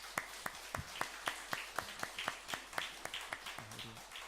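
Scattered applause at a church service honoring the Shalom choir's conductor after a hymn, with sparse, quiet claps in a loose rhythm of roughly four per second, some voices and a low hum underneath.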